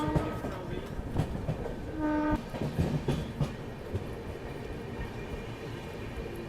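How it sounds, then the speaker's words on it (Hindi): Marudhar Express rumbling into Merta Road Junction station, with a steady clatter of rail cars, a brief horn-like tone around the middle and continuous wheel noise throughout. "फिलहाल अपनी ट्रेन पहुंच रही है मेड़ता रोड जंक्शन स्टेशन।"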